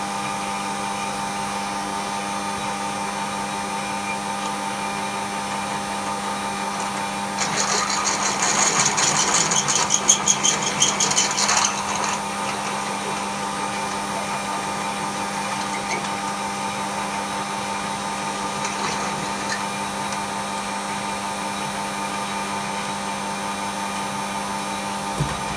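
A steady mechanical hum runs throughout, and an electric drill whirs loudly for several seconds partway through before falling back to the hum.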